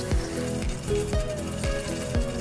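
Ginger and garlic sautéing in a pan for beef chilli fry, a steady close sizzle with periodic scraping strokes of a spoon roughly every half second.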